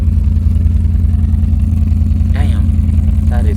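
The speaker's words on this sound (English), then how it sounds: "Has a wonderful exhaust tone, very smooth." Engine 117 runs steadily with a smooth exhaust note, a loud, even low-pitched throb pulsing close by, with a couple of brief voice fragments over it.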